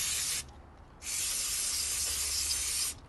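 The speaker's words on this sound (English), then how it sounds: "There we go, I've got STP carb cleaner. And this is where we're going to just go through any holes that we see." STP carb cleaner sprayed onto a lawn mower carburetor in two hissing aerosol bursts, a short one and then a longer, steadier spray of about two seconds after a brief pause, close and fairly quiet.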